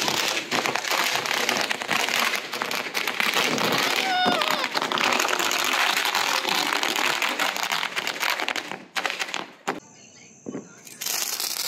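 Rapid Diwali firecrackers burst in a dense, continuous crackle, then thin out with a few loud pops near the end; a voice speaks briefly amid the noise.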